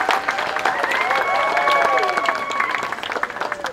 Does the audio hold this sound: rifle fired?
no